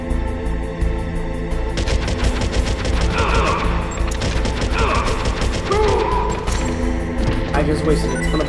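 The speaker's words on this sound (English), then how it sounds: "I just wasted a ton of bullets on this guy" Gunfire in the PlayStation game Metal Gear Solid, rapid bursts of shots and sharp impacts over game music, with someone talking throughout.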